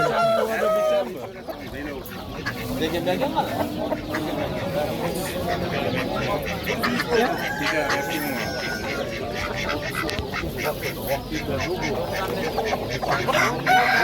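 A rooster crows amid a busy poultry market, with clucking, quacking birds and people talking throughout.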